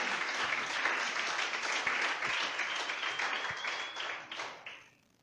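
A church congregation applauds with full force, a dense wash of clapping from many hands that holds steady and then fades out quickly.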